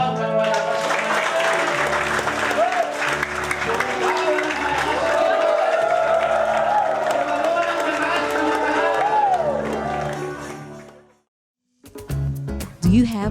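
A congregation at a live-streamed worship service claps loudly, a sustained wash of applause and cheering with music and voices mixed in, cutting off abruptly before a brief final sound.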